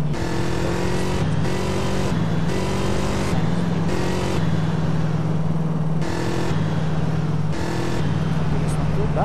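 A car drives in Grand Theft Auto: San Andreas, its engine droning and stepping up and down in pitch as it revs through shifts, loud and steady throughout while people talk over it.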